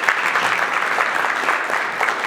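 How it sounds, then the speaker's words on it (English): A conference audience at a women-in-mining event breaks into steady, dense applause, a continuous wash of many hands clapping in a large room, heard on its own. "Can we have a round of applause for her?"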